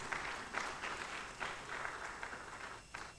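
An audience at an executive dialogue opening ceremony applauding, a dense, fairly distant patter of clapping that keeps going with small surges.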